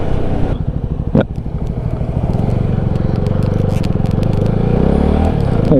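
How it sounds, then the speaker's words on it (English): A CF Moto NK 300 naked motorcycle being ridden, its engine and exhaust droning loud and steady up close, with a brief rise in revs early on and a continuous throaty rumble throughout, no voices over it. "The exhaust sounds pretty good on this."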